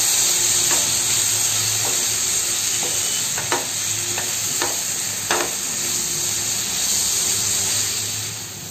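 Dried shrimp (javala) sautéing in oil for a Malvani dry recipe, a loud close continuous sizzle punctuated by several sharp spatula taps and scrapes.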